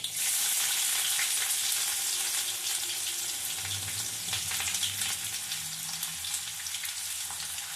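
Onions dropped into hot oil over a cumin tempering, giving a loud, dense, continuous sizzle close by that eases slightly after the first moments, with faint low clatters underneath.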